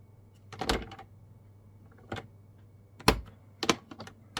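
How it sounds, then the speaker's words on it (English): A score blade is drawn across paper on a cutting machine in a handful of short, sharp scratchy strokes spaced unevenly over a few seconds, close up and fairly quiet, with no talking. "I am going to use my score blade, because I do want to score."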